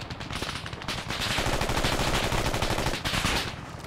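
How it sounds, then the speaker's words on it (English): Sustained automatic gunfire from a machine gun in the military video game Arma, a dense, loud burst of rapid shots running almost the full length with a short break near the end, no voices over it. "That was a machine gun."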